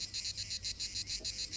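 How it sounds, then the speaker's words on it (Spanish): A cicada sings alone and up close, a loud buzzing song pulsing in quick regular bursts of about five per second. "El mecanismo con el que produce su potente rugido la chicharra"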